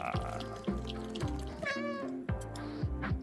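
A cat meows in the video game Stray, with a clear rising-and-falling meow at close range standing out over a steady game soundscape of background music and ambience.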